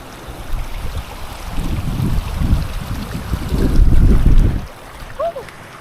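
A motorcycle fords a river in northern Pakistan near Passu Glacier, its wheels churning water into repeated loud, surging splashes under wind noise, fading away at the end.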